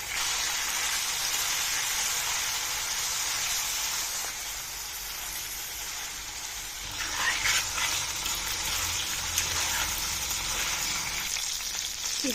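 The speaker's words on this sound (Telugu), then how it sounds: "ఇది ఫ్రై చేయడానికి కొంచెం టైం పడుతుంది కదండి." A stuffed brinjal masala curry fries in a pan over the stove, giving a steady, close sizzle that holds throughout and swells slightly partway through.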